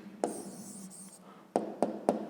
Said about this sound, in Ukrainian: Так, ну а тепер записуємо відповідь.